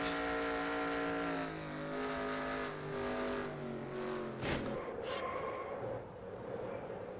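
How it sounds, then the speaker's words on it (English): Onboard audio from the No. 98 NASCAR Camping World Truck Series truck racing at Daytona, a steady loud engine drone with shifting pitch throughout and a couple of brief sharp bursts near the end, no talk. "We're going to go right on board with the 98 of Cameron Haley."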